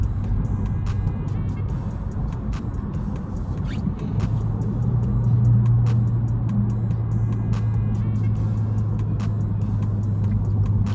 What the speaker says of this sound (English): You could see me downshifting there